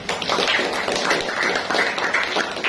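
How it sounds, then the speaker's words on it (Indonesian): Students in a classroom give a short round of rhythmic hand clapping, loud and close, the taps falling in a steady patterned beat. "Tepuk tangan boleh."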